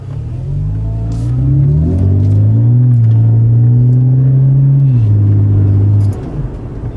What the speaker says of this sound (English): So let's go for a drive and see what happens.